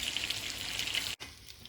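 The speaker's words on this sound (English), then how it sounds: "So this has begun bubbling a little bit." A pot of Persian kufteh broth, lidded over low heat, starts to simmer with a steady, bright bubbling hiss that cuts out for a brief instant before resuming.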